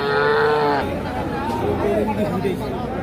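Young bull calves at Current Haat cattle market, a short moo or bleat up front, then market hubbub with people talking over it.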